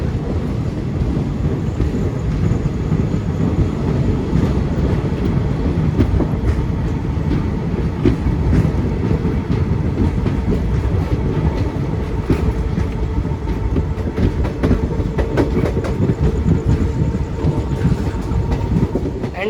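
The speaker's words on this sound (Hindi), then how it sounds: "ये रेलवे स्टेशन डिपार्चर।" An Indian express train between Mathura Vrindavan and a nearby station rumbles steadily from on board, with a dense low roar and rhythmic clickety-clack of wheels over rail joints throughout, and no voices.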